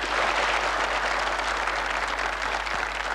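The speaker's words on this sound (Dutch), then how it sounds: "APPLAUS." An audience gives steady, dense applause at a moderate level, with many hands clapping continuously for a few seconds.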